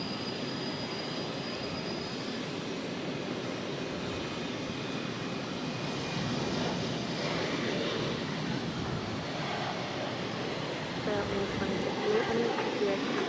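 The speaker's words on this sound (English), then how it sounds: "this is JetBlue Airways 755 taking off to Washington Reagan National on an E190" A JetBlue Airways Embraer E190 jet takes off at Boston Logan, giving a steady, loud broadband roar that swells slightly toward the end with a faint high whine on top.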